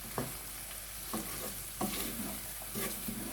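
Potatoes and brown chickpeas with spices stirred in a pan, with repeated scraping strokes about once a second over a steady low sizzle, close and moderately loud.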